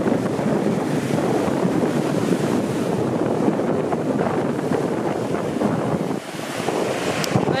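Strong seaside wind buffeting the microphone alongside the wash of ocean surf, a constant loud roaring rush with no voices, dipping briefly near the end before swelling again.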